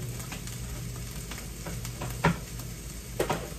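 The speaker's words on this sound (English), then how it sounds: "Okay, crack the egg." A hot pan sizzles steadily while food is handled for burgers, with an egg cracked in: a few sharp taps and cracks stand out near the middle and near the end over the continuous frying hiss.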